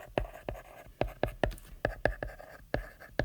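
Pencil strokes on paper, written out as a statistics sentence, come as a series of close, sharp scratches and taps in an uneven rhythm, with brief pauses between words.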